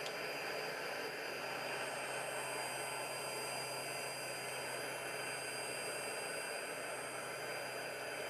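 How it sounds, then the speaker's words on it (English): Steady jet engine roar from a business jet in the Microsoft Flight Simulator 2020 game, a constant broadband whine with high tonal hiss running unbroken and loud throughout, with no talking. "Now I got some engine power."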